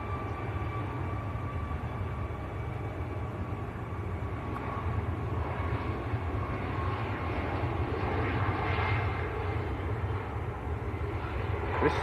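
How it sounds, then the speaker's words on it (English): A newish Ryanair jet airliner, about a year and a half old, roars steadily on its takeoff roll at Manchester Airport, a continuous broad engine rumble heard from a distance with no voices. "Ryanair to Berlin, just on the roll. Newish aircraft, about a year and a half old."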